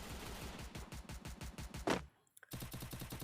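Rapid automatic gunfire rattles in the Free Fire battle royale game, a steady stream of close, loud shots that cuts out briefly into near silence with a couple of stray pops before the burst resumes just as fast.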